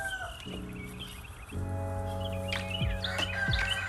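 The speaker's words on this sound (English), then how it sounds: "These here are 2 male white Chinese geese that I have." Two male white Chinese geese calling outdoors on a property, with harmonic honking calls rising over background bird chirps and a couple of sharp louder cries near the end.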